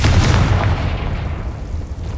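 A single loud Confringo explosion spell from Hogwarts Legacy bursts with a deep boom, then rumbles and fades away over the next two seconds.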